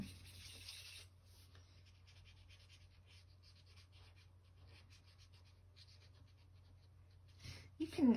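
Soft, steady rubbing and scraping of a blender pen working soft pastel on paper, faint and close, with light strokes continuing throughout.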